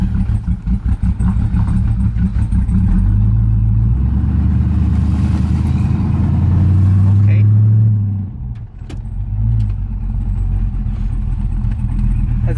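A single cab truck fitted with a big cam engine on its first test drive, a loud close rumbling, choppy idle and revving throughout, with people talking over it.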